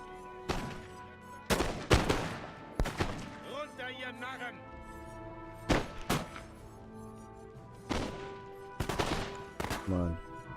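Musket volleys in the Napoleonic-era strategy game Total War: Napoleon during an Italy campaign battle, several sharp crackling shots scattered irregularly, some near and loud, some layered in rolling bursts, with game ambience and faint talk between.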